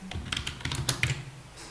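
Quick clattering keystrokes on a computer keyboard as Java code is entered, a short burst of close, crisp taps with no talk.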